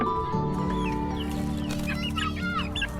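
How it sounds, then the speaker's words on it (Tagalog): Chicks in a simple coop cluck and peep eagerly, many birds calling in overlapping bursts close by, loud and continuous with no talk. "At mga sisiw yan, sabik silang kumain"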